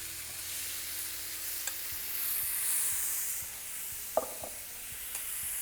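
Beef sizzles steadily in a very hot pan with oil for a Vietnamese beef noodle salad, a soft continuous hiss with a few light clicks of stirring.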